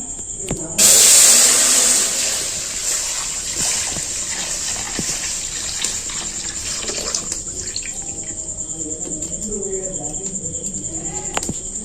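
Cow's milk, about a litre, is poured from a container into a wok (kadai) as a steady gushing, splashing stream that starts abruptly near the beginning, then settles into a quieter, continuous trickle and slosh with a high constant hiss under it.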